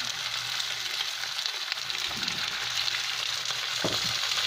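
Pork stir fry sizzles steadily in a hot pan over high heat, a continuous bright crackle with a few louder spits and pops, close and alone.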